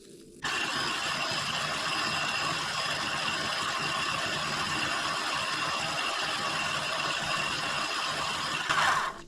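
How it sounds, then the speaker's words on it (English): Steady, continuous whirring grind of a small electric grinder turning dried wild onions into powder, loud and close, running unbroken for several seconds before a brief change at the end. "I'm literally just gonna keep adding it, grinding it up, and making it into a powder"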